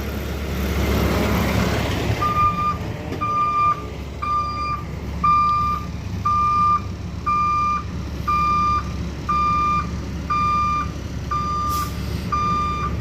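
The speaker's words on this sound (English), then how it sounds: "Can you back up a bit so I can hear the backup sound?" A Peterbilt 520 McNeilus ZR garbage truck with a faulty backup alarm reverses, sending a steady series of about a dozen evenly spaced beeps over a low diesel idle, preceded by a brief burst of engine noise.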